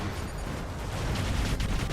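Continuous rapid weapon fire from battling robots in War Robots, a dense rumbling barrage with crackling impacts, steady and fairly loud throughout.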